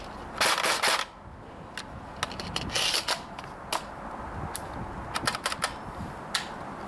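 A Krytac P90 airsoft electric gun (AEG) with a 200-round mid-cap magazine fires until the magazine is empty. Up close there is a fast burst of sharp mechanical cracks, then scattered single shots and clicks spread out with gaps between them.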